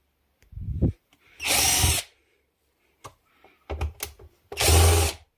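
A power drill unscrews nuts, bolts and screws in a few short whirring bursts separated by quiet gaps, close and loud, with faint clicks between runs.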